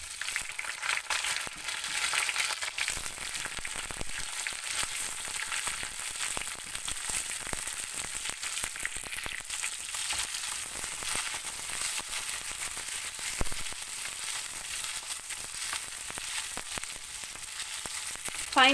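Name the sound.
frozen shallots frying in pure sesame oil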